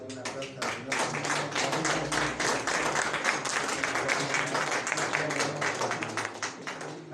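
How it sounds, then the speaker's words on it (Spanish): A church congregation applauds at an evening service, dense steady clapping from many hands sustained throughout, fairly loud and close, with no talk over it. "Vamos a dar una aplauso al Señor."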